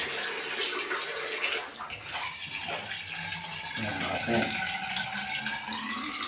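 Water rushes and gushes steadily as a clogged toilet bowl is flushed, a loud continuous wash of splashing flow with voices faintly underneath.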